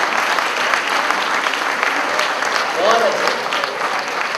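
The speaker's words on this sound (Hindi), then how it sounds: "ताली तो आपकी इस बात पर बजेंगी" An audience at a Hindi comedy poetry gathering gives a dense burst of applause that stays steady and loud throughout. A voice briefly cuts in beneath the clapping.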